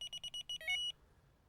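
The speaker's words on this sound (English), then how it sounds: "so just activate the first buzzer." Carp fishing bite alarm buzzer sounding in a rapid series of sharp, shrill electronic beeps, then a brief held tone, close and clear with no talking.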